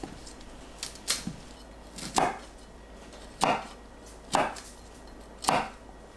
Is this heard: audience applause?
no